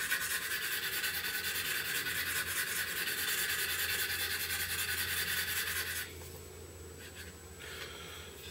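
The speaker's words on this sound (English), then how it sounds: "sanding stick." A fine-grit sanding stick rubs steadily across a scale model of a Sea Flanker aircraft, a close continuous scratchy hiss that drops to a softer, quieter rasp partway through.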